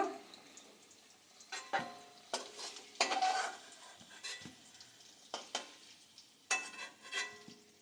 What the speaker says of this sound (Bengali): আলুগুলো ভাজা হয়ে গেছে। আলুগুলো এমনভাবে ভেজেছি যে অর্ধেকের বেশি সেদ্ধ হয়ে গেছে।